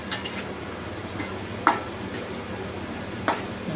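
Spices with curry powder and chili powder sautéed with onions in a pan for chana masala. A utensil clinks and scrapes against the pan in a few sparse taps over a low background hiss.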